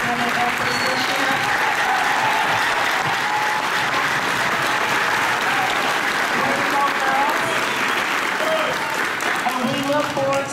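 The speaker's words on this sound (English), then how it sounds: "give you guys a round of applause for your outstanding efforts this year" Sustained applause from a school awards audience for eighth grade female athletes, a loud, continuous wash of clapping with a few voices and cheers mixed in.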